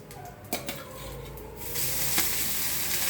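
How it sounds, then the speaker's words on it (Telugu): Ajwain seeds roasting in a pan on a low flame, giving a steady close sizzle and hiss with a few sharp scrapes and clinks of stirring, rising slightly louder midway. "ఇది ఇట్లా వేయించాలండి ఇలా ఈ విధంగా వేయించుకోవాలి"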